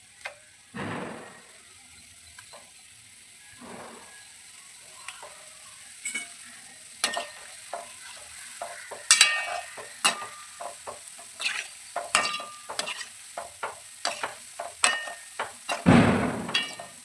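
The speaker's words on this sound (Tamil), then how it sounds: "இப்போ எண்ணெய் காஞ்சிச்சு, அதை போட்டுடலாம்." Gulab jamun dough balls dropped into hot oil in a kitchen garden setting, with a steady crackling sizzle building as frying continues, close up, plus occasional stirring clicks and a louder splash near the end.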